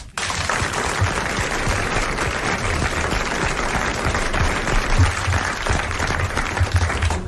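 Steady, dense applause from a television studio audience, sustained and even for several seconds with no talking over it.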